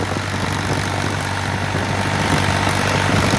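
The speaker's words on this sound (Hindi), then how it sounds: "दर्शक भाइयों प्रदर्शन देखो ट्रैक्टर का।" A New Holland 3630 tractor pulls a rotavator through a ploughed field, its engine a steady, loud, continuous drone with dense broadband churning noise and no talk.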